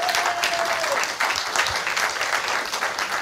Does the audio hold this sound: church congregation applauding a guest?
yes